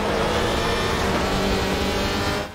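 A WTCR 2018 touring car in the racing video game, pulling out of the pit lane at the Zhuhai circuit, its engine a loud, steady, continuous roar that drops away sharply at the end.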